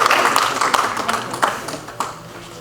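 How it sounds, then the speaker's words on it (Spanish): Applause from a church congregation for a man named Jairo: a dense, steady patter of many hands clapping, fairly close and lively, with a few sharper claps standing out over about two and a half seconds. "Un aplauso para Jairo, ¿verdad?"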